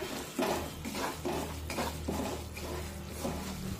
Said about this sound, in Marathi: 2 ते 3 मिनिटे हा रवा आपण तुपामध्ये छानपैकी परतून घेऊया